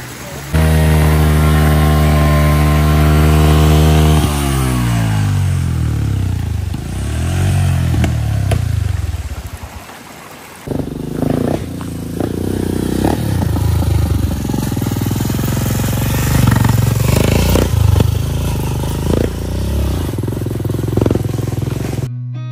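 A motorcycle engine runs during a repair, holding a steady revving drone before winding down and falling away, followed by clattering and voices talking nearby.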